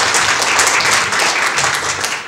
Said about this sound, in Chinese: 我们给个掌声的好不好